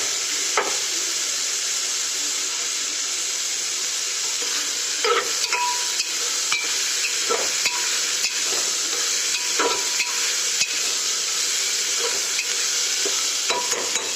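Potatoes added to a pan of frying garlic and curry leaves for masala rice khichdi, giving a steady loud sizzle with intermittent stirring scrapes and clinks.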